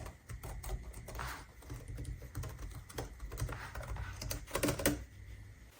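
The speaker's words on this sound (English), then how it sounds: "This is a membrane keyboard, so the actuation distance is pretty high." Steady, soft typing on a ProtoArc EKM01 Plus wireless membrane keyboard with high actuation distance, a quiet continuous patter of muffled key presses close up, with no voices.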